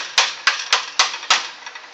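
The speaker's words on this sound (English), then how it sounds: "Take my hammer. And just keep beating that over." Hammer blows beating over the edge of a sheet metal patch panel for a '57 Chevy, five sharp metallic strikes at a steady, slightly uneven rhythm, loud and close, each ringing briefly before the next.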